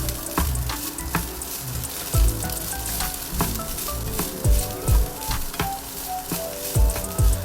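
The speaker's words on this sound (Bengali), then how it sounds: "দিয়ে একটু নেড়ে দিচ্ছি" Pineapple fried rice is stirred in a pan over a constant crackling sizzle, with repeated scraping strokes and dull thumps of the spatula against the pan coming every second or so.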